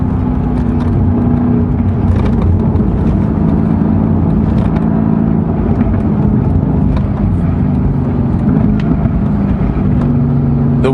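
A Mercedes-AMG GT S on a Genting hill run drones steadily up close, its engine note rising and falling as the transmission downshifts, with a constant rush of road and wind noise throughout.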